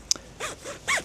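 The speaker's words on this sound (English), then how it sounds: "zipper pull" A tent door zipper on a Fjern Stormgrotta tunnel tent is pulled in several quick, close rasping strokes, with a small clink of the pull at the start.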